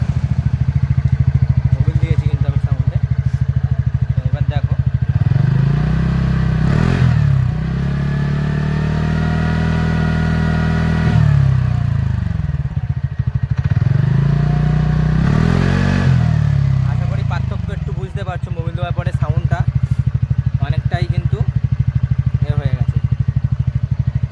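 A motorcycle engine, freshly oil-changed, idles nearby with a steady rumble, revving up twice in smooth swells before settling back, while someone talks over it.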